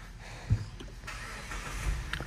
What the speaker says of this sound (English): And now we can safely start the vehicle.